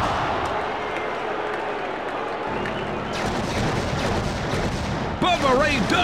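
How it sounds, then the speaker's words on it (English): Dense, continuous gunfire and blasts from vehicle combat in the WWE Crush Hour video game, a loud, constant barrage with layered shots and a brief whistling sound near the end. "Matt Hardy scattering shots in all directions."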